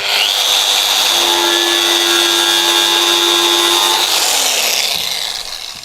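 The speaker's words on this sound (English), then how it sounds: "Get an angle grinder with a variable speed and you will have a better performing disc" A variable-speed angle grinder fitted with a Tyrolit SCM disc works a surface flat: a loud, continuous high whine with grinding hiss, steady throughout, pitch shifting near the end as it winds down, with no talk.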